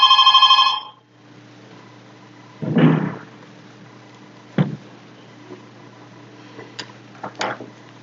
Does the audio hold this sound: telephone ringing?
yes